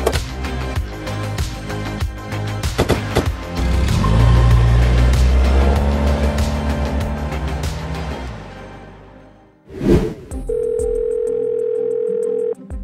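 A phone call rings out unanswered as a steady electronic tone following music and a whooshing sweep, moderately loud and alone without speech.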